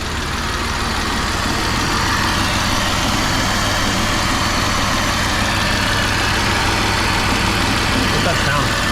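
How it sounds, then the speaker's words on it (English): A BMW E46 engine idles with a vacuum leak, a steady close mechanical drone with a faint hiss layered over the low hum, continuous and unchanging throughout. "What's that sound? It's a vacuum leak."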